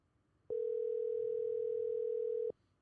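A single steady telephone ringing tone sounds for about two seconds while a call waits to be answered, clean and constant, starting and stopping abruptly over near silence.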